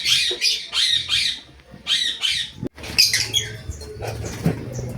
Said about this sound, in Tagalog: Ayun na yung nakawala na lovebirds natin isa.